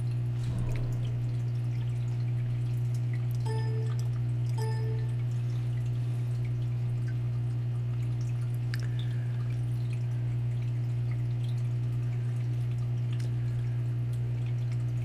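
A salvage pump runs continuously while stripping water from the bilge of a sinking boat, a loud, steady low motor hum with faint splashes and drips on top throughout.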